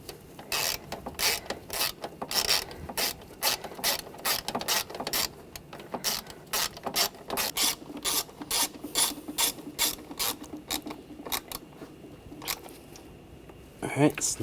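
A hand ratchet snugs the bracket screws under the intake manifold of a 2009-2013 BMW 328i xDrive with the 3.0L inline-six. Close, crisp clicking comes in quick repeated bursts of strokes throughout.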